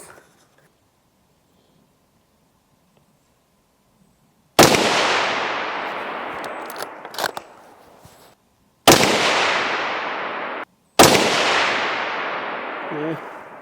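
Three loud rifle gunshots ring out during scope testing with a Discoveryopt LHD 4-16x44 scope, each a sharp crack followed by a long, fading echo, separated by a few seconds of quiet.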